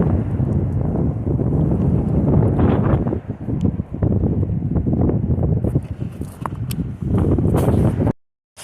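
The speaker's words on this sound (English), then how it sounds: "It must be 20-mile-per-hour winds at least." Strong gusty wind, around 20 miles per hour, buffets the microphone trackside beside a slow stretch of Norfolk Southern rail line, with loud, rumbling low-end bursts that rise and fall before a sudden cutoff.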